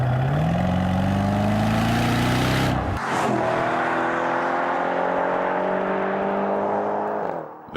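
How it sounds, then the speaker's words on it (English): A Mercedes E63 AMG E-Class, V8 of over 600 horsepower, roars loudly as it accelerates hard through the gears, with a brief drop at a shift before climbing again, close and powerful. "driving an E-Class, not the regular one, but the E63 AMG, as you can immediately hear"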